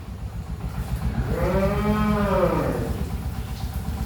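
A cow lows once on a dairy farm, a long, loud, drawn-out moo rising and falling over a steady low rumble of background noise.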